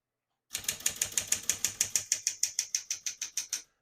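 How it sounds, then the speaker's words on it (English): Keys striking on a 1964 Smith-Corona Galaxie portable typewriter, about twenty crisp, evenly spaced clacks in a steady rhythm, close and alone with no talk. "We're going to keep that on single for now and finish typing."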